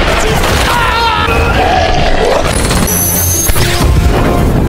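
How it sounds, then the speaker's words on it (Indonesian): Explosives detonate in a war film scene, a loud, dense wall of booming blasts and crashing debris filling the whole stretch with heavy rumble. "keadaan diperparah dengan peledak mereka yang meledak"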